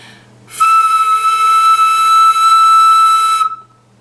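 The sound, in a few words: flute beginner tone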